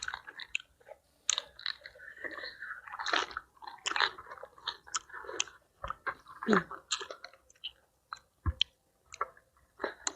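Close, wet chewing and crunching of spicy pounded fresh shrimp with cockles and fermented fish sauce, with repeated bites, squishes and clicks in an irregular rhythm, and brief talk in between.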